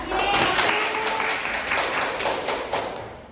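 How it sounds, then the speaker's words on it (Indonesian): A small classroom group applauding a student during a lesson, with a short burst of scattered hand claps, fairly close and steady, and a voice talking underneath. "Oke, bagus, tepuk tangan dia ya"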